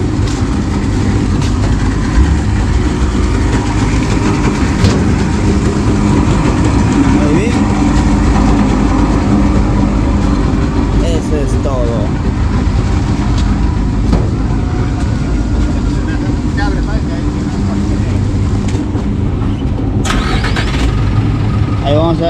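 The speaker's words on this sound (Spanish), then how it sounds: "A ver cómo el carro grande se va" A large truck pulling away on a road in the VRAEM region of Ayacucho, Peru: a loud, continuous diesel engine rumble close by, with people talking over it throughout.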